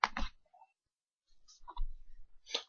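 A computer mouse gives several crisp, close clicks, some in quick pairs, separated by short silences, with no talking.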